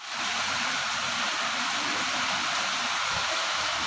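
A heavy, continuous rush of water pours down loudly and close, a dense unbroken roar with no voices over it.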